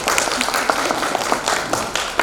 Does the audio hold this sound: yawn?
no